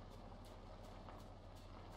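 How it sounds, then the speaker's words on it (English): A truck in the video game Inside rumbles with a steady, loud low drone and periodic hissing bursts, continuous throughout without talk. "there's the truck"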